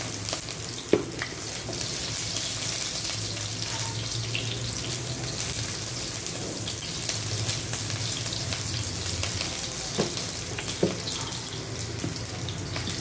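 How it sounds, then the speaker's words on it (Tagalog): Garlic and onion sautéing in a pan for pork adobo: a continuous close sizzle and hiss with occasional light clinks of stirring, steady throughout with no talking. "Ilagay na natin guys yung ating bawang at sibuyas."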